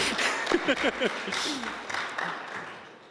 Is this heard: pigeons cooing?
no